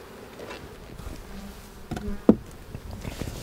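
Honey bees hum around an open hive during spring hive work, a low buzzing drone close by with a few sharp knocks and clicks from handling.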